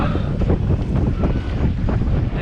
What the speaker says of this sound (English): A lot of wind, 21 knots apparent at the moment.